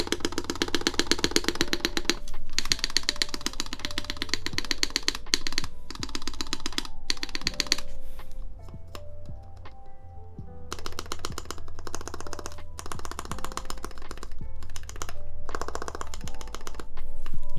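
Rapid typing on a mechanical 60% keyboard during a build, keys clacking in dense bursts with short pauses and a low steady hum underneath, no talk.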